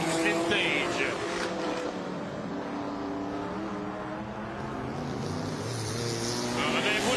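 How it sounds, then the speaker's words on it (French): Vintage race cars lapping a circuit in a demonstration race, a steady loud engine drone with shifting pitch, a commentator talking over it throughout. "il nous reste 15 minutes à compléter dans cette course de démonstration des vintage"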